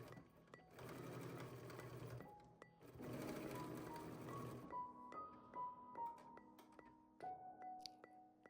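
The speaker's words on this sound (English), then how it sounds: "You might need to hand wind your machine while you're going over the loop area" A sewing machine stitches a holiday stocking of six fabric layers, loud bursts of rapid stitching followed by slower, separate needle strokes as the machine is hand-wound over the thick loop area.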